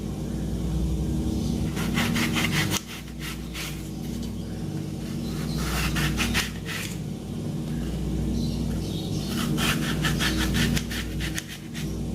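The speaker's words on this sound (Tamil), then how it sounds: "இப்போ வாழைக்காவை இந்த மாதிரி கட் பண்ணிக்கோங்க." A knife slices through raw plantain in a kitchen, with repeated quick rasping cuts in short bursts over a steady background hum, close and moderately loud.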